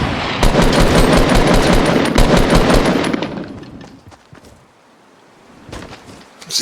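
Rapid automatic gunfire in a video game, a loud dense burst for about three seconds that fades out, followed by a few scattered shots and another rising burst at the end.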